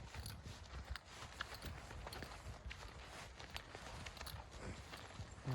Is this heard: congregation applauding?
no